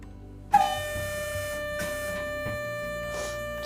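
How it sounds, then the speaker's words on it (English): A loud, sustained air horn blast starts abruptly and holds a steady, piercing tone for several seconds, with faint background noise underneath. "What is it? It's an Air horn."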